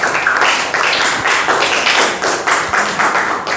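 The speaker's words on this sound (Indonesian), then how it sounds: "Ya, beri tepuk tangan untuk Alina." A classroom of students claps for a classmate in loud, close, rhythmic bursts of hand claps that pulse evenly throughout.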